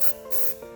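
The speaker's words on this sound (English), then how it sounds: "and just spray some paint in it until it starts to puddle up in there" Spray paint is sprayed from a can into an old paint cap, giving two or three short, close hissing bursts in quick succession.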